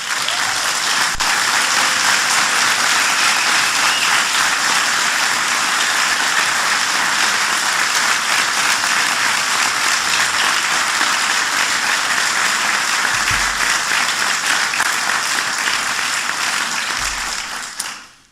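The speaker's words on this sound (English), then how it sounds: "Please give them a big round of applause." Sustained, loud applause from a large audience fills a Medal of Honor ceremony honoring an Army staff sergeant, a steady wash of clapping that continues evenly before tapering off at the end.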